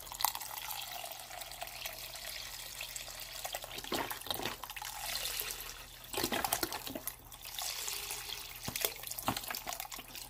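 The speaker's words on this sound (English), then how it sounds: "open it so I can pour it in there, the juice in here" Juice is poured from an opened carton into a container, a faint trickling, gurgling stream with a few louder glugs and splashes in a quiet room.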